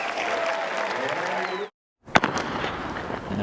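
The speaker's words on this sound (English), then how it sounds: "Now the crowd comes alive because Prandini takes the heat" A stadium crowd at a women's 100m heat of the NCAA outdoor track and field championships cheers and claps loudly, broken by a brief cut to silence before a sharp bang and the roar resuming.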